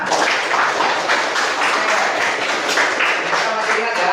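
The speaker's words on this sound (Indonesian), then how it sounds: "Oke, tepuk tangan." Students in a classroom clap together in steady, dense applause, loud and continuous from start to finish with no voices standing out.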